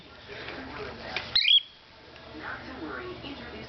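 A pet cockatiel lets out one short, sharp squawk, loud and close, over a quiet room background.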